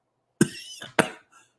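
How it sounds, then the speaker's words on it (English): Two sharp, close coughs from one person, about half a second apart, each trailing off, then a faint breathy sound in an otherwise quiet room. "sorry about this coughing tonight"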